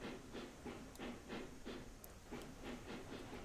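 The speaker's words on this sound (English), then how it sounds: "So now we can just run the train and bring the cars back up to the top here." A steam train runs on rails in the Railroads Online video game, giving a rhythmic, regular chuff of exhaust beats with a hissing background, fairly quiet and with no talk.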